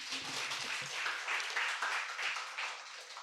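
An audience claps for the contestants at an English speech competition. The applause is warm and moderately loud, holding steady for a few seconds, with a little murmur at the start.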